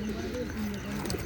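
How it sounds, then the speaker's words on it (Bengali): A Khulna bloodline pigeon, an old-lineage hen, coos in a steady series of low, soft throaty calls, close by and continuous throughout. "এটা হচ্ছে আমাদের চট জেনারেশনের কবুতর"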